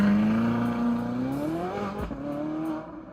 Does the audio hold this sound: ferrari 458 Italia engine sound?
yes